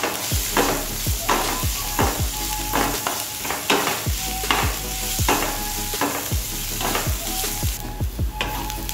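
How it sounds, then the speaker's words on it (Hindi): Chopped onion frying lightly in a pan, a steady bright sizzle broken by regular rhythmic scrapes and clinks of a spoon stirring against the pan throughout. "जो चॉप किया हुआ ऑनियन है वो इसमें मैं डाल देती हूँ। इसको हमें हल्का सा फ्राई करना है"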